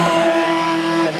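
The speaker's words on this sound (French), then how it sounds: "Avec l'arrivée de la Formule 3000 de Patrick Vatin" A Formula 3000 race car at a national hill climb passes close and loud, its high, steady engine note holding a clear tone before easing off slightly at the end.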